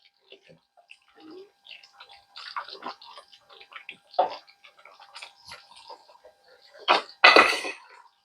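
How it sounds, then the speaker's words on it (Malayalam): A spoon stirs egg curry in a pan, giving scattered light scrapes and clicks, close and fairly quiet, with a few sharper knocks near the end. "ഇനി ഒന്ന് ഇളക്കി കൊടുക്കാം."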